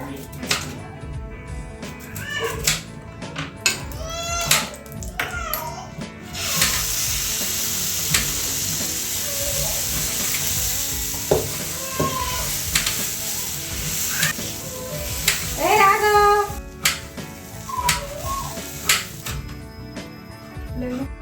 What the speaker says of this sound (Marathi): दोन्हीकडून चांगलं थालीपीठ भाजून घेते मी जेणेकरून आहे ना ते छान खरपूस होईल